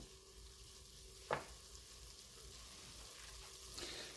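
Vegetables sauté in a pan for a Mexican dish, a soft continuous sizzle and fry heard close but quiet, with a single sharp stirring clatter early on and a slight lift in the sizzle near the end.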